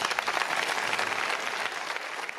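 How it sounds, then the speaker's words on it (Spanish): An audience at an outdoor town festival proclamation and award ceremony for tobacco and pepper fairs claps steadily, a dense continuous ovation heard at moderate distance without speech over it. "Y pido un fuerte aplauso para ellos."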